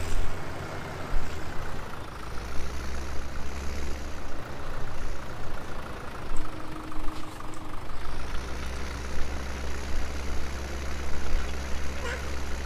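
A large John Deere 8R farm tractor idles in a farming simulation game, a steady low engine rumble that dips and shifts in pitch partway through and stays loud and constant.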